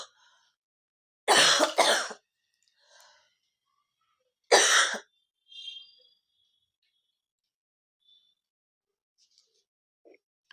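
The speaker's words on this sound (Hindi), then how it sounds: "थोड़ा ज्यादा खांसी हो रही है" Two bursts of harsh coughing, a few seconds apart, close to the listener in an otherwise quiet room, with faint breaths in between.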